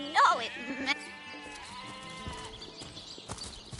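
Sheep bleating in the Divinity: Original Sin video game, a loud wavering bleat at the start followed by a softer drawn-out cry, with a voice speaking over part of it.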